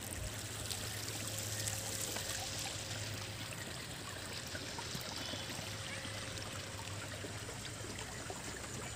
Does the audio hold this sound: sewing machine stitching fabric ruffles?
no